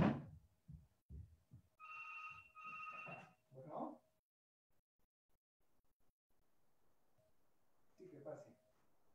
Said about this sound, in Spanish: está sonando por ahí un teléfono